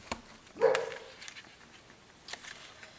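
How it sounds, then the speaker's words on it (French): A single dog barks once at mid distance in an indoor room during a paper-crafting session, a short sharp yip standing out against quiet background. "Mon chien a aboyé."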